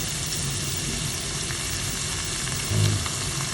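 Kangkong stir-frying in a pan with pepper and oyster sauce, giving a steady, close sizzle and crackle throughout, with a brief louder stir near the end and no talking.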